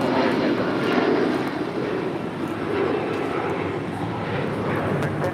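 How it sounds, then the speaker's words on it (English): Avianca Airbus A320 jet arriving at LAX from Guatemala City, its engines making a steady, fairly loud broadband roar that swells and eases slightly throughout, with faint voices underneath. "This is Avianca 640 coming in from Guatemala City on an A320 in the Surf City, El Salvador livery."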